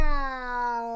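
A person sings a sustained, drawn-out imitation of a cat's meow as a vocal warm-up, one smooth tonal call lasting about a second that stays steady and close.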